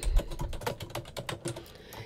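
Quick, irregular keystrokes clatter on a computer keyboard as code is typed, close and fairly quiet, with no voices.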